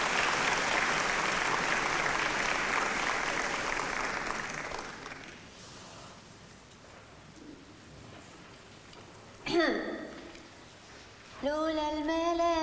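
An audience claps loudly to cheer on a singer at a gathering, then the clapping fades to a quiet murmur, broken by a brief sharp vocal sound and, at the end, a voice beginning to sing.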